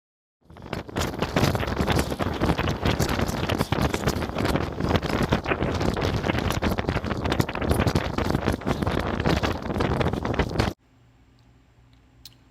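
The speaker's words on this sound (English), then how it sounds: "the wind here was increasing into the 40s, and it was plenty windy enough" Strong, gusty wind of around 40 mph roars and buffets the microphone continuously for about ten seconds, then cuts off abruptly to near quiet.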